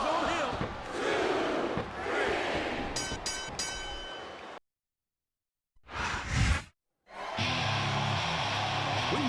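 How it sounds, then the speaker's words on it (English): A wrestling arena crowd in a WWE video game roars and chants loudly, broken by two abrupt silences and a short burst between them, ending in a steady roar with a tonal hum. "I'm not sure I agree with what the crowd is chanting, JR, but I guess it's their right."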